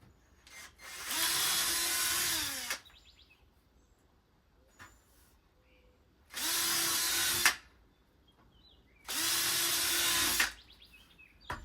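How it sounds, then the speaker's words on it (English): A power drill whirs through wood shelving, driving drywall screws, in three separate bursts, each lasting a second or two, with quiet pauses between them; close and fairly loud. "Let's just drill some holes in this."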